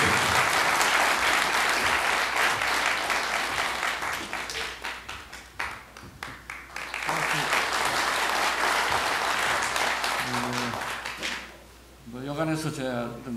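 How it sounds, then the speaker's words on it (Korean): Crowd applause at a 2011 party members' rally in Jeonju, loud and sustained for several seconds, then thinning as a voice begins speaking near the end. "여러분 이영호 목사님의 축사 뜨거운 박수 보내주십시오."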